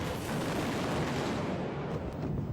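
Dense, continuous rumble of distant artillery barrages against North Vietnamese bunkers in the Vietnam War, a steady wash of overlapping booms with no single blast standing out.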